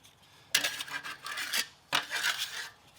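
Scraping a piece of wooden baseboard across dry-pack mortar in a shower pan, two separate rasping strokes, close and moderately loud, each a short gritty scrape with a few quieter rubs in between.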